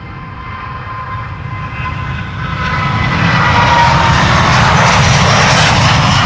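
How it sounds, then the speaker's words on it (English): Delta Airlines Flight 243, an airliner at Amsterdam Schiphol's Polderbaan runway 36L/18R, gives a steady jet engine roar that swells louder and fuller as it draws near, with no voices. "Delta Airlines Flight 243 coming this way."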